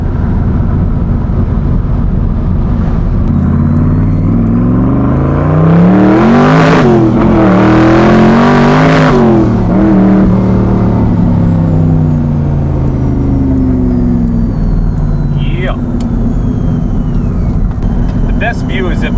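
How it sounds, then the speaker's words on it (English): A 1000 HP turbocharged Corvette Stingray accelerates hard on the street, with a deep, loud engine note rising through the gears and rumbling throughout as people talk nearby. "We gotta open this thing up a little bit, man. Hear some turbos cracking."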